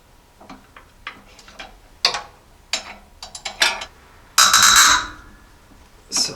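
A wrench works the power steering pump pulley nut on a Jeep J10, giving sharp metallic ticks and clicks in irregular bursts, with a louder rasping stretch near the end.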